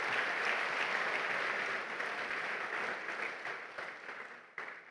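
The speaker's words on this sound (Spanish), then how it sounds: "Den un aplauso al Señor" A church congregation applauds during a sermon, a broad wash of clapping that stays full before gradually thinning and tapering off toward the end, with a few isolated claps at the close.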